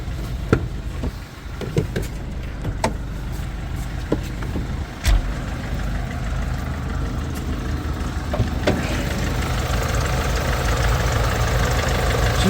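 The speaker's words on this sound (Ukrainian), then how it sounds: "Чисто працює двигун, ніяких нарікань немає." A car engine on a commercial vehicle idles steadily and fairly close, a continuous low rumble with a few sharp clicks and knocks on top.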